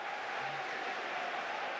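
A tournament crowd at a Mortal Kombat 11 event gives a standing ovation, with continuous distant applause and cheering forming a dense, even wash of sound.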